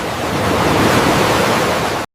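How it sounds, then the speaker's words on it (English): Ocean waves wash onto a shore in a steady, full roar of surf, loud and close, with a breezy hiss throughout and no voices. "Ocean speaks in rhythm."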